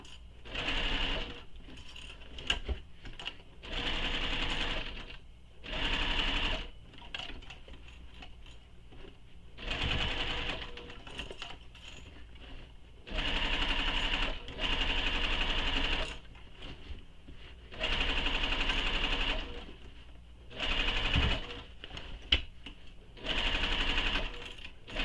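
A sewing machine stitches a bag seam for a sling pack in repeated bursts of a few seconds each, a steady rapid mechanical whir with short pauses between runs, close and clear.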